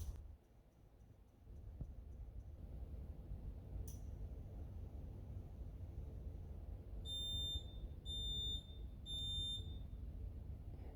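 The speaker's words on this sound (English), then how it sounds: "you heard a little beep there just to let you know that the timer's finished" An Indesit induction hob's timer-finished signal sounds as three short, shrill beeps in even rhythm over a quiet kitchen hum.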